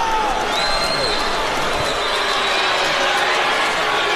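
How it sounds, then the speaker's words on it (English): A packed boxing arena crowd rises and roars in steady unison near the end of the Mayweather–Guerrero fight, a dense, sustained wall of cheering that holds level throughout. "The crowd comes to its feet, and they cheer as one"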